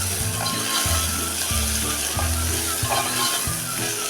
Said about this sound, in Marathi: थोडासा टोमॅटोचा कच्चा कणा कमी होईपर्यंत परतून घेऊया